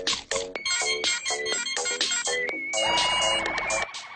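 A cell phone ringtone plays a repeated electronic melody in bursts, loud and close, switching partway through to a denser warbling pattern in a cartoon scene, with no talking over it.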